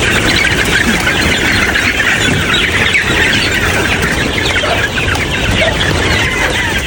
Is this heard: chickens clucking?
yes